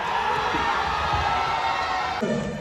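Audience at a Dubai success meet for actor Asif Ali, loud sustained cheering and whooping with clapping mixed in, a dense crowd roar throughout the short burst.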